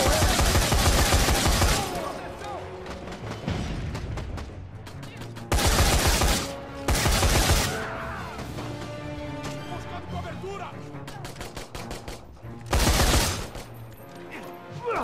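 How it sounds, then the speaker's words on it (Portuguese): Bursts of gunfire from the Dead Rising 4 video game, with loud volleys and rapid automatic fire recurring in clusters over a busy game soundtrack, while a voice speaks between the shots. "Parece que alguém disparou o primeiro tiro."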